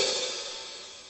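A single hi-hat cymbal hit rings out with a bright, sizzling wash that slowly fades away.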